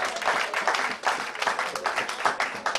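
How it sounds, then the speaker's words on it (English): A church congregation at a Cherubim and Seraphim service in London claps together, a dense close burst of applause with uneven rhythmic peaks throughout. "Let's clap for our mamas."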